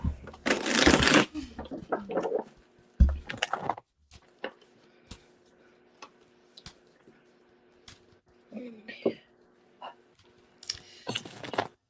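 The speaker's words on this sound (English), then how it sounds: "we can just pull a couple of cards and just see what the cards say" A deck of reading cards is shuffled in loud riffling bursts close by, followed by quieter scattered card taps and slides during a live personal reading.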